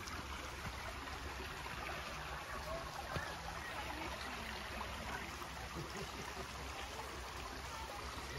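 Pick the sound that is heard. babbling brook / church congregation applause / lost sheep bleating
babbling brook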